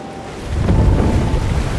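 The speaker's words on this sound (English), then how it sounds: "The door bursts open, a powerful wave of water crashing down towards you, and you're swept up in the flood." A powerful wave of water crashes through a door in the video game Slay The Princess: a deep, roaring rush swells up about halfway through and keeps surging loudly to the end.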